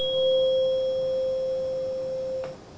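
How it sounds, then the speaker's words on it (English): A struck tuning fork rings with a steady pure tone, a faint high overtone fading early, the fundamental sustaining evenly for over two seconds before stopping abruptly, heard alone. "You can hear the high-pitched ring at the beginning, but it dies out very quickly, leaving the pure fundamental tone."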